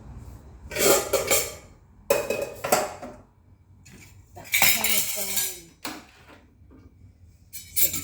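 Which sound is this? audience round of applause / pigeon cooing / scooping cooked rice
scooping cooked rice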